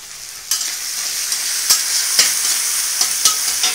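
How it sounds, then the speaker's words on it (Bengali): Garlic tempering sizzles steadily in hot oil for a Malabar spinach dish, a loud, bright hiss broken by several sharp crackles and spatters, with no one talking. "এই রসুন ফোড়ন দিয়ে দিলাম"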